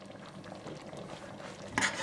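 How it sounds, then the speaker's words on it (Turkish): A Turkish milk pudding simmers in a pot on low heat, a faint, steady bubbling close by, ending in a brief scrape or clink. "Altı kısıkta arada bir karıştıra karıştıra sütünü çekene kadar pişiriyoruz."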